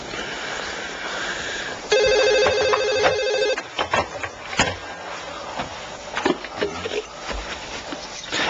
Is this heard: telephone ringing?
yes